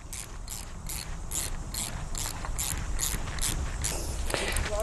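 A clamp is being tightened on an electric fence earth rod against the underground earth cable, giving a steady run of rapid metallic ratcheting clicks close by, slightly uneven in pace and growing a little louder toward the end.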